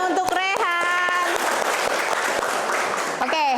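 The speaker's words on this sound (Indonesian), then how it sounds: "Tepuk tangan untuk Rehan." A classroom full of people claps steadily for a few seconds, a dense patter of hands with voices cutting through at the start and end.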